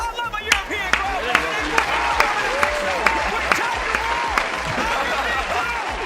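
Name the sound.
watch party crowd cheering and applauding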